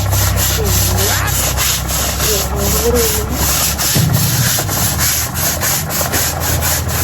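Steady, vigorous scrubbing of a surface, a continuous rough rubbing rhythm with repeated strokes, loud and close, with no voices over it.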